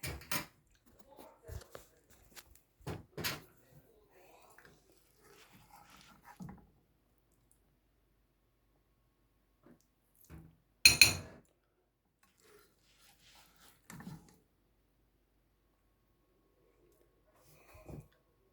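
Sparse clinks and knocks of dishes being handled, mostly quiet with one sharper clatter midway and long silent gaps between.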